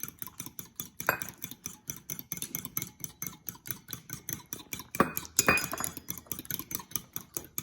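A whisk beats eggs in a bowl for Korean-style steamed eggs, fast regular clicking strokes close up with a couple of sharper clinks against the bowl.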